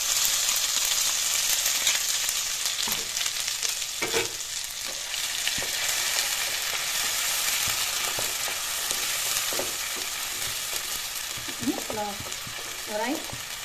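Ginger, garlic, onion and dried chili paste sizzle loudly in hot oil, with a steady broadband hiss and occasional scrapes and clinks from a utensil stirring the pan.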